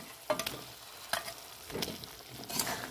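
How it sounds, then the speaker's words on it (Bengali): Boiled eggs stirred and fried in a poppy-seed spice paste for dim posto, a quiet low sizzle broken by several distinct spatula scrapes and stirring strokes at irregular intervals. "ভালো করে ডিমগুলো মশলার সাথে কষে নিয়েছি"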